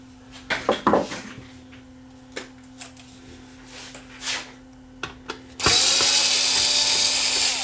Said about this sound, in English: Cordless screwdrivers for the benefit of those that don't like the sound of it